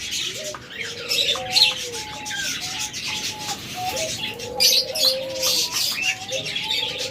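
Pet lovebirds and cockatiels kept for sale chirp, squawk and coo continuously, a busy layered chatter of many birds at moderate distance.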